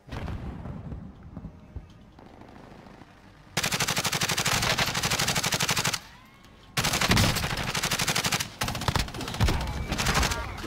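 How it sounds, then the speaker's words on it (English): Rapid automatic gunfire from a hillside in a video game, loud sustained bursts separated by brief pauses, with quieter ambient game sound early on. "Shots from the hillside."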